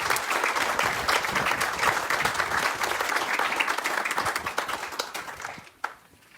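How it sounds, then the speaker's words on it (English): Audience applauding veterans at a St. Louis NABC Recycled Rides vehicle presentation; dense, steady clapping from a sizeable crowd that holds for several seconds, then tapers off and drops to near silence with a final stray clap. "So a round of applause for those that are veterans."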